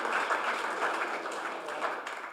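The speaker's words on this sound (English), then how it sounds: "We got to get a round of applause for Clayton." Colleagues at an all-team company meeting clap for a new hire, a fairly soft, steady patter of applause lasting a couple of seconds with no talking.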